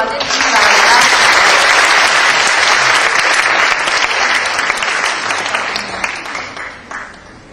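An audience at a university debate contest final applauds warmly to welcome a speaker, a dense burst of clapping that holds steady and then tapers off toward the end.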